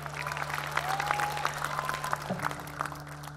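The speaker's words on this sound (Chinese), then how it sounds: "再次把我们的掌声送给我们可爱的舞者。" A studio audience at a street dance competition show applauds the dancers, with moderate, steady clapping under a sustained musical tone.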